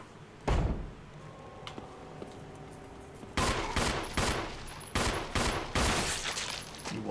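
Gunfire in the Resident Evil HD Remake game: several heavy, booming shots, one early and then a cluster of loud blasts with ringing decay in the second half, over a steady background hum.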